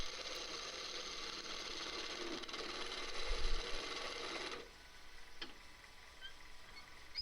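A wood lathe spins a piece of dry ash, a steady whirring hum with cutting noise that stops abruptly partway through, leaving quieter room sound and a couple of faint clicks.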